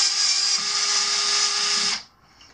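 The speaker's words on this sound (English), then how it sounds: "Take these 2 screws out right here." Power screwdriver whirring steadily to back out two bracket screws on a Razor E200 electric scooter, a loud continuous close-up whine that cuts off abruptly near the end, with no talking.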